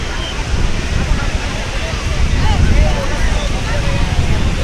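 Sea waves break continuously along the stone-lined shore at Digha beach, a loud, dense roar with wind buffeting the microphone and no clear separate voices.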